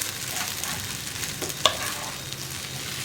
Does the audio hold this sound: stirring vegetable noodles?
yes